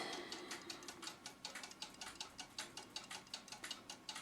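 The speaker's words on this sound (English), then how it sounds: "You hear another ticking because I've got the Oompa Player cuckoo clock on the test stand right beside me." Ticking from an Art Deco Mauthe alarm clock mixed with a second tick from a cuckoo clock beside it on a test stand, a steady, fairly fast, crisp double-layered rhythm, close and moderately quiet with no talking.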